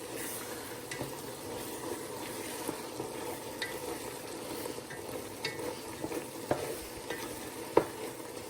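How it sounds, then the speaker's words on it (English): Rice being stirred in a pot after absorbing its liquid, a spoon scraping and knocking against the pot over a soft steady simmering sizzle, with a few sharper clinks near the end. "Just stirring it up to make sure it's not sticking."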